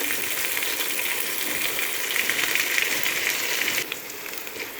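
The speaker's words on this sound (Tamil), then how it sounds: "கொத்தமல்லியும் புதினா போட்டு நல்லா வந்து வதக்கியாச்சு" Onion, tomato, coriander and mint sautéing in hot oil for chicken biryani, a steady loud sizzle filling the clip, eased slightly near the end as the stirring changes.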